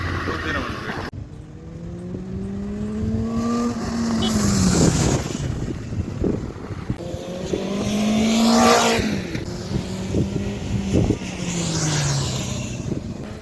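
A Benelli TNT Tornado 600i inline four-cylinder motorcycle engine rises and falls through several swells, its pitch sweeping up and down as it rides past, with wind buffeting and a voice at times underneath.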